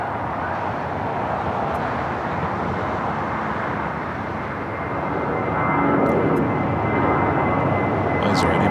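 An airliner thunders down runway 25 right at LAX on its takeoff roll, a broad, steady engine roar that swells louder toward the end.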